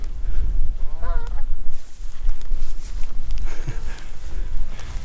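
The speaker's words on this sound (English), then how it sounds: "Geese." Geese honk in a few scattered calls outdoors in Snowdonia, heard over steady wind-like rumble and rustling, with nasal honks standing out near the start and again later.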